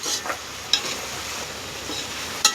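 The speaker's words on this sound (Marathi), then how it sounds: "आणि मस्त असा कांदा तळून घेतोय" Sliced onions fry in hot oil for a large three-kilo biryani batch, giving a steady close sizzle broken by a few sharp stirring clatters, with no talking.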